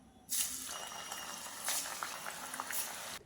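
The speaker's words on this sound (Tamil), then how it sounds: "சூடான எண்ணெயில் சேர்த்துறலாம்" Coconut milk murukku dough is dropped into hot oil and erupts in a bubbling, crackling froth, with surges of fizzing a few times over a steady quieter simmer, close and moderately soft.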